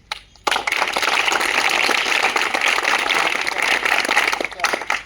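Students applauding their fire training instructor: a dense, steady crowd clapping begins sharply after a brief pause and fills the room for several seconds, close and loud, with faint voices mixed in.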